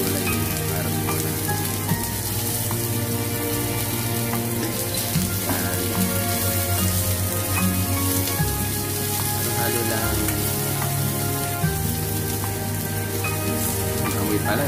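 Carrots and other vegetables sauté in a pan, giving a steady, close, rain-like sizzle that runs unbroken throughout with no talking.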